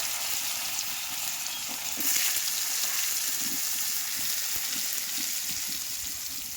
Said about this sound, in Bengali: কচুটা দিয়ে সুন্দর করে কচুটা আমি লাল করে ভেজে নেব